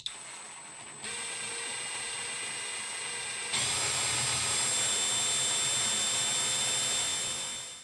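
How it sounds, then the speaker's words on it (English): A steady, high-pitched power drill whines continuously, drilling a small hole for an M2 screw in a Bachmann Class 158 model train, rising in pitch and intensity partway through, with no voices. "I'm just going to drill down into there and put a little M2 screw in"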